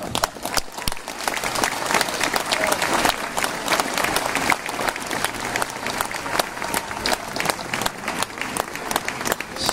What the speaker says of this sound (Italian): Continuiamo questo applauso per il grande, e non è soltanto un festeggiativo artistico, Ambrogio Sparagna.